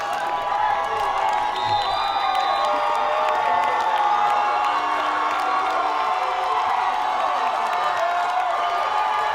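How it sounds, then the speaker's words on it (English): A home crowd cheers at a college football game in Hayward, backing the Gladiators late in the fourth quarter. The roar of the stands is steady and continuous throughout, with scattered whoops and shouts. "And you hear the crowd, Hayward crowd, trying to will their hometown Gladiators for a win."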